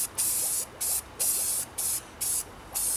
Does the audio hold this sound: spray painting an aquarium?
yes